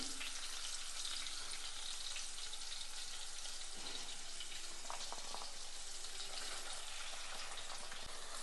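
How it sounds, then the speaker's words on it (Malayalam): Ginger frying in a pan alongside chilli, tomato and onion, a soft, steady sizzle with faint stirring scrapes throughout, no talking. "ഇനിയിപ്പോൾ ഇതെല്ലാം കൂടി ഒന്ന് വറക്കിയെടുക്കണം അപ്പോൾ ആദ്യം ഞാൻ ഇഞ്ചി ഇടുകയാണ്"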